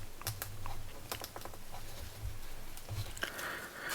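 A folding knife, the Kizer Quartz, saws and crunches through a very hard piece of rope in a series of short fibrous snaps and scraping strokes, close and fairly quiet.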